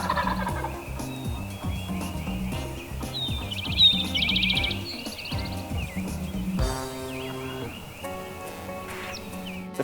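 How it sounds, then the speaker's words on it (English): Wild turkeys gobble at first light, several birds calling repeatedly from different distances, some loud and close, others fainter, with smaller birds chirping underneath and no voices. "there were turkeys gobbling everywhere"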